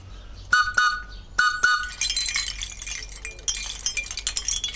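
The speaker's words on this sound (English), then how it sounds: "This one is a trolley whistle." A British trolley whistle gives a few short, high, bright toots close by. A noisy clatter of jingling follows and fills the rest of the moment.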